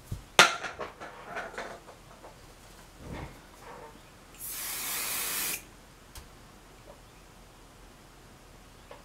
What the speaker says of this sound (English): So go ahead and get that sprayed.